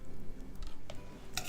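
Orange juice from two oranges and a quarter cup of vegetable oil being mixed in a bowl for banana walnut loaf batter: a low, steady swishing stir, close and quiet, broken by a few sharp clinks of utensil against the bowl.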